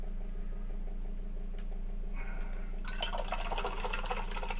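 Water splashes and pours into a pot at a miniature-painting desk, a short burst of sloshing in the last seconds over a steady low electrical hum.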